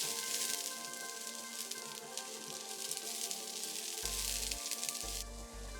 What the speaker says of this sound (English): In a freshly cleaned and oiled pan, I'm adding our shallots.